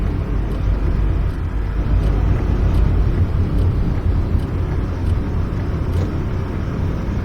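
A Mercedes-Benz Sprinter van drives in the bus simulator OMSI 2. The engine drones loudly and steadily with deep low-end rumble, holding an even pitch throughout with no talking.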